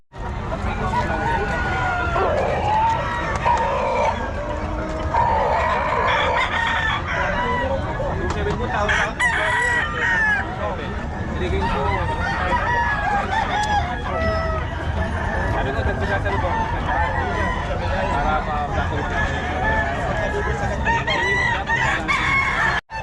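Gamecock roosters at a cockfighting venue in Bocaue crow repeatedly and cluck, loud and close, over a constant crowd babble with people talking nearby throughout.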